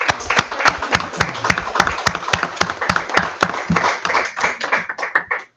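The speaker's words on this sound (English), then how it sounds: "We owe him a round of applause for this" A small group at a city council meeting gives a round of applause for a young speaker, with distinct, rhythmic, fairly close hand claps lasting several seconds before tapering off abruptly.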